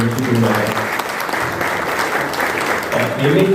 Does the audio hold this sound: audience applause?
yes